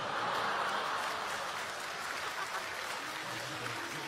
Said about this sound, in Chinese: 别鼓掌了